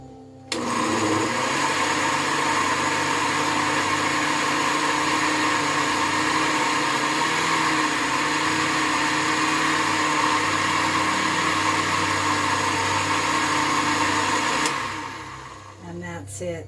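Blender pureeing hot squash and vegetable soup in a cabin kitchen: a loud, steady motor whir running continuously for about fourteen seconds before cutting off abruptly.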